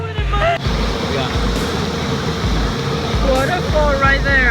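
A waterfall rushes close by as a steady, loud broadband roar, with people talking over it throughout.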